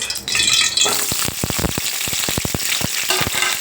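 Papri sizzle and crackle in hot oil while being fried, with a steady frying hiss and rapid sharp pops and clicks as the pieces are turned.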